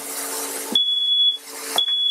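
A kitchen smoke alarm goes off while armadillo is being cooked, sounding two sharp, loud, sustained electronic beeps with a short gap between them over a background hiss.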